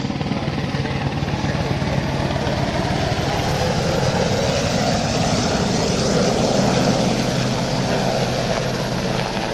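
A helicopter with yellow-painted rotor blade tips banks overhead, giving a steady, loud broadband engine and rotor roar throughout with a faint low blade throb.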